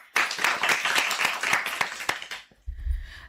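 Children clap together in the Bal Sabha children's program at All India Radio Hisar 102.3 FM studio, a quick burst of many hands lasting a couple of seconds, fairly close, ending abruptly before a low rumble.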